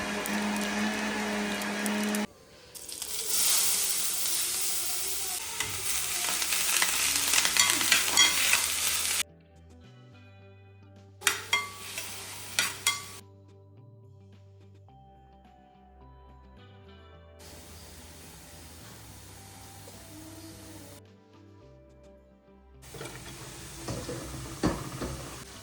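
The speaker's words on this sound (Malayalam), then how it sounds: "ഇനി ഇതാ നമുക്ക് ഉപ്പേരി ഉണ്ടാക്കാം" Vegetables for upperi sizzle and are stirred in a hot pan, loud crackling frying in long stretches broken by short quiet gaps, with scraping stirs and no talking.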